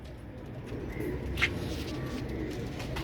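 Soft, low cooing of Royal Teddy fancy pigeons in the background over steady ambient noise, with a single brief bird chirp partway through.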